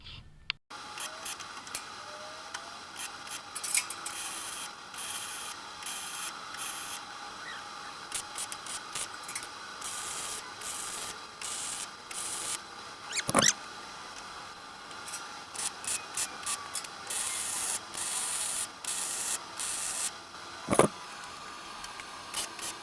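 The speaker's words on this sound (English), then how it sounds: "we're going to grind that galvanized off" An angle grinder strips galvanized coating from the steel of a homemade utility trailer, a steady high-pitched whine running throughout with repeated bursts and brief cuts as the disc loads and lifts off the metal.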